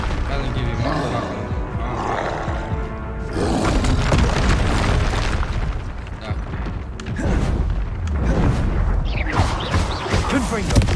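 Repeated Confringo blast spell explosions booming and roaring in the Hogwarts Legacy video game, loud and continuous over several seconds, with a voice calling out over the blasts.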